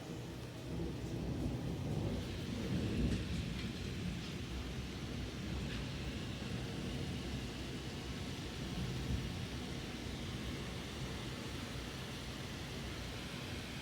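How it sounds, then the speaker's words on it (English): Heavy rain pours steadily in a thunderstorm, with low rolling thunder from a nearby cloud-to-ground lightning strike swelling early and fading under the constant hiss of rain. "That was cloud to ground."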